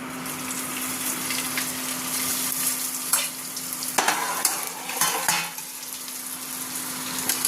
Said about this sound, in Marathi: वड्या कापून घेतल्या आता तळायच्या